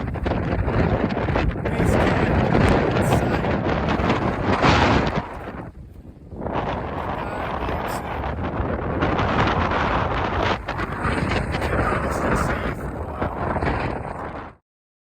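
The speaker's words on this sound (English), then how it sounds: "feels like it's pretty windy here as well" Strong wind roars across a high mountain pass at Shepherd Pass in the Sierra Nevada and buffets the microphone hard, a loud, constant rumbling gust that dips briefly midway and then stops at the end.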